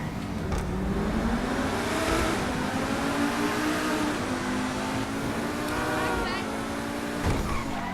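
A super car in GTA V revs its engine hard under braking and skids, the engine tone rising and falling over continuous road noise while someone talks throughout.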